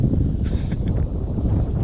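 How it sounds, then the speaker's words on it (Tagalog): Strong wind buffets the microphone outdoors on a hunting spot, a steady low roar with gusting rumble throughout, no voices over it. "Napakalakas ng hangin."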